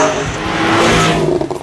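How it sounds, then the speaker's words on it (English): A Porsche 911 Carrera, 991.2 generation, blips its engine in one quick rev that rises and falls within about a second and a half, loud and close, with no voices. "The engine blips and responds exactly how you expect it to."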